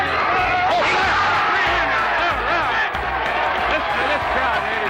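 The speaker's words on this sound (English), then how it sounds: "Listen to this crowd, ladies and gentlemen." Crowd at a pro bowling tour event cheering and clapping, a dense, loud wash of applause and voices holding steady throughout, with a commentator's voice under it.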